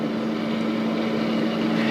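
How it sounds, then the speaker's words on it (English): A laboratory vacuum filtration system runs with a steady, loud mechanical drone and a constant pitched hum, unchanging throughout. "you can turn off the vacuum system"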